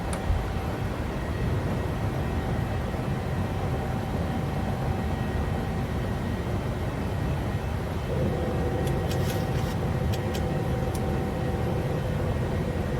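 An airliner takes off in Microsoft Flight Simulator with a steady broadband engine roar and rushing air. Faint tones and brief clicks rise over the wash partway through.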